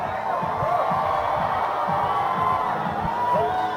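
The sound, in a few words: crowd cheering at a deep water solo climbing competition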